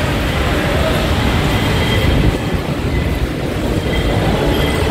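Interior of a moving train on a Manila rail line between EDSA Taft and Ortigas: a steady loud rumble with clattering wheels and faint squeals runs continuously, with no talk.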